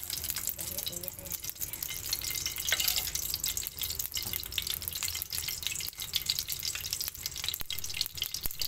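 Spice paste for a yellow fish broth sautéing in plenty of hot oil, a steady crackling sizzle heard up close with occasional stirring clicks throughout, no voices over it.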